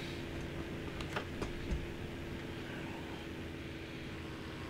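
Steady drone of a fighter plane's engine in the flight simulator Aces High 3, a constant hum with a few brief clicks, no talk.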